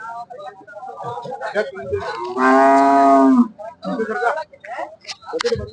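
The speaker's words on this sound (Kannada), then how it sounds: "ಇಲ್ಲೊಂದು ಮೂರು ಹಸುಗಳಿದೆ ಮೂರು ತಂದಿದ್ದಾರೆ ಜೊತೆಯಲ್ಲಿ ಕರು ಇದೆ" A cow gives one long, loud moo close by at a cow and buffalo market in Sindhanur, Karnataka, with people chatting before and after it in a busy outdoor setting.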